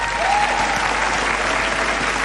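A studio audience at a televised dating show claps in a brief, dense, even burst of applause.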